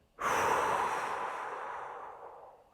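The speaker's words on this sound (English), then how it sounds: "Breathing nice and big" A single long, deep breath taken during a neck, back and shoulder stretching exercise, a broad airy rush that starts abruptly and slowly fades over a couple of seconds, close and fairly soft with no talking.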